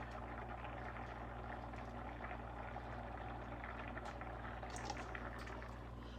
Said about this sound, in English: We don't want it to keep going at a real rolling boil